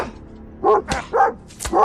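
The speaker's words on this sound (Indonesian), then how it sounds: "Diiringi anjing putih yang menggonggong mungkin tanda tidak setuju tindakan tuannya." A white dog barks several times, loud and close, in short sharp yips spaced across a couple of seconds.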